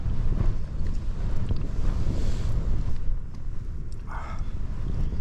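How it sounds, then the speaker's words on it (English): Strong, gusty wind buffets a Hilleberg Soulo tent pitched in snow, a loud steady roar with rising and falling gusts and flapping fabric close by, no one speaking. "The wind's definitely going a bit more now."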